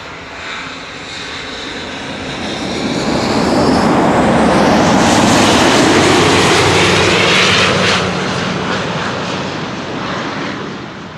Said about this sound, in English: I'm hearing the sound of an airplane that is passing overhead.